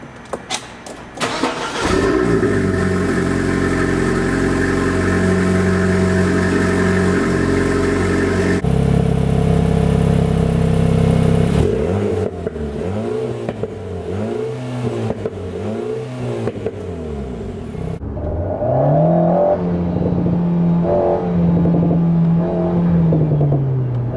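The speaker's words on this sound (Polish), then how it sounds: "przy każdym, nawet lekkim wciśnięciu gazu za plecami pojawia się przyjemny pomruk" A 2023 Alpine A110 GT with a 1.8-litre 300 hp engine and sport exhaust starts up and revs repeatedly while parked, loud and close, with rising and falling blips and no talk.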